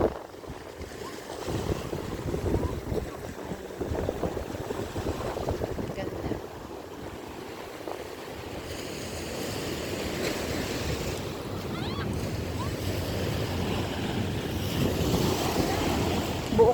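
Surf washing against a rocky seashore at The Entrance on the Central Coast of New South Wales, Australia, with steady wind buffeting the microphone; a continuous close wash of water and wind gusts, with someone briefly speaking over it.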